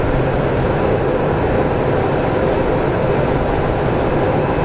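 A Delta Airlines Boeing 737 landing at Phoenix Sky Harbor on a cold winter day, a loud, steady, broadband engine roar close by that holds evenly with no talk.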